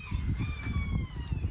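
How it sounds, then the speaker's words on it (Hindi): Roosters crow from some distance, their calls carrying faintly and overlapping steadily across the whole stretch without any talking. "अभी मैं दूर हूँ तो मुर्गे जो हैं उनकी आवाज़ें आ रही हैं"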